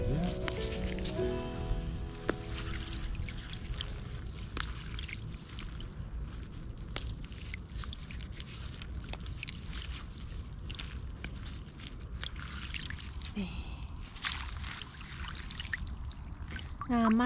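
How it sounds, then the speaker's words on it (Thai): Clean water flows along a shallow stream where edible wild greens grow, a steady close trickling and pouring with small splashes, faint footsteps and a voice at the start. "น้ำไหลแบบนี้นะคะ"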